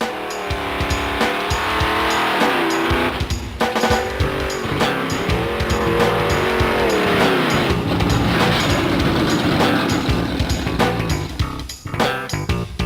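Car with a General Motors 400 automatic transmission accelerating hard, its engine roaring loud and close with rising pitch that drops at each gearshift, tire squeal mixed in throughout.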